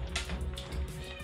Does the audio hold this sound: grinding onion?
no